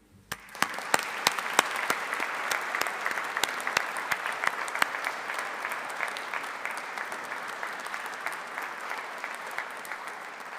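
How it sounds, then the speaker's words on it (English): Audience at a business school graduation ceremony breaks into applause: a few crisp opening claps swell within a second into sustained, even clapping from a large hall that continues steadily. "let's just take a moment to acknowledge and applaud them for the support they've given you."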